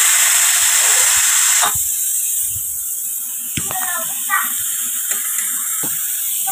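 A pressure cooker boiling potatoes vents a loud, sharp steam hiss that cuts off after under two seconds. Quieter kitchen clatter and a voice follow.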